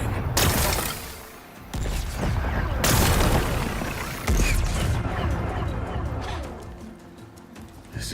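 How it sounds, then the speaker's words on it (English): Rocks being blasted apart in Horizon Forbidden West, several loud booming bursts with crumbling, creaking debris between them, heard over ongoing game sounds. "Gotta blast away some rocks, so I can expose the power cell."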